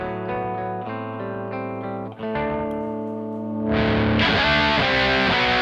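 An electric guitar played through a Kemper Profiler rings out sustained distorted chords, first a held, harmonically rich tone, then a brighter, more aggressive crunchy distortion after a brief dip, loud and alone without talk.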